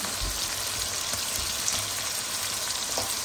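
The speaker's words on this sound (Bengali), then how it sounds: "এই যে পেঁপে ভেজে নিচ্ছি" Papaya pieces fry in hot oil in a pan for a chicken roast, a steady close sizzle with faint low stirring bumps and no speech.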